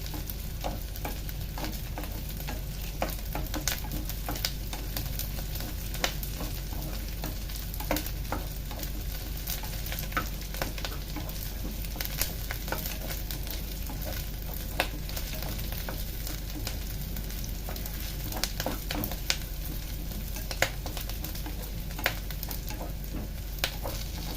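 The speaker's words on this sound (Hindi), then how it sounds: "ये लेयर्ड प्याज ट्रांसलूसेंट हो जाएंगे" Layered onions fry in a pan with a steady, soft sizzle, broken by scattered scrapes and clicks as a utensil stirs them throughout.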